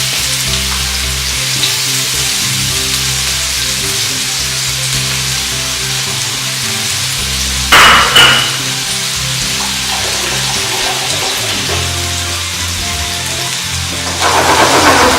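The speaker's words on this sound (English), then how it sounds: "Yeah, that's the sizzle you want to hear." Chicken sizzles loudly in hot oil, a dense continuous crackle with occasional bursts of spattering and stirring, close by and without talk.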